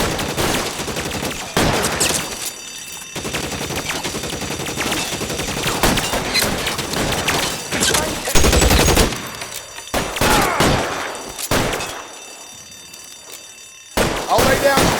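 Gunfire in a shootout in the crime game L.A. Noire, rapid bursts and sharp repeated shots throughout, loud and close, mixed with an alarm-like ringing and talk.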